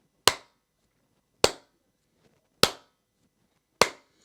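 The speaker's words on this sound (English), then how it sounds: "let me clap a very slow tempo beat." Four single hand claps spaced evenly about 1.2 seconds apart, each a sharp, close, isolated crack with silence between, marking a very slow tempo beat.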